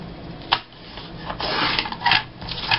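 Paper for a gluebook is trimmed close up, giving a few short, scratchy cutting and rubbing strokes in quick succession.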